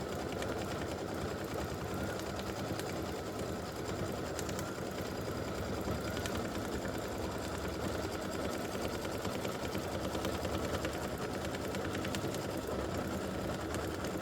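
Embroidery machine stitches Mrs Claus's collar in a lighter red thread, a steady, fast mechanical whirring and needle chatter running unbroken and fairly close for the whole stretch, with no talk.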